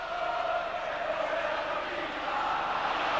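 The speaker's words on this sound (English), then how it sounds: "The San Siro crowd certainly subdued" A subdued football crowd at the San Siro during Inter against Juventus murmurs and drones steadily as a broad wash of distant stadium noise, with no sharp cheers standing out.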